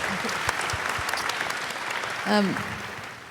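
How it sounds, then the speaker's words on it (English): Audience applause at a big data panel discussion, moderate clapping spread through the room, with a brief voice breaking through near the end. "Yes, definitely worth an applause."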